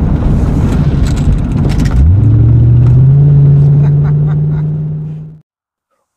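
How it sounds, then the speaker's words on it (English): A Chevrolet Corvette's big V8 roars loudly close by, a rough, rumbling drive that rises into a sustained high rev and holds before cutting off abruptly into silence. "The sound is so fantastic. This is the big advantage of a big V8 engine."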